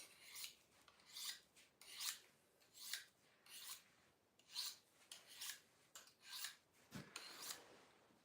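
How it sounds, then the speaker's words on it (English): A knife is sharpened in a fur shed before skinning a beaver: about nine rhythmic rasping strokes, each a bright scrape at close range, evenly spaced with brief quiet gaps and no talk. "Sharpen this knife up so we can get started on this deal."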